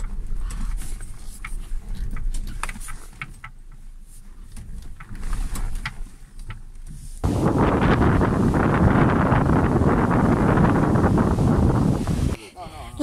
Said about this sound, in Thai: เพราะว่าป่าเมื่อกี้เนี่ย ลมมันแรงมาก